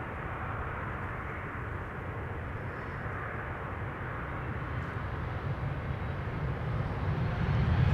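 An Airbus A350-1000 taxiing at Schiphol, a continuous low engine rumble heard from a distance outdoors, steady and gradually growing slightly louder toward the end.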